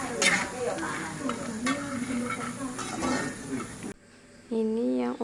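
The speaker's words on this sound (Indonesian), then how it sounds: "Gorengnya sambil diaduk-aduk, jangan terlalu basah." Chicken liver mixture fries in a pan while being stirred, with a steady sizzle and scraping of the utensil; someone talks over it for most of the time.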